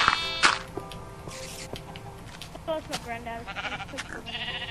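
A baby sheep bleats in Minecraft, with short wavering bleats from the game among other game sounds and clicks, and a person talking over them.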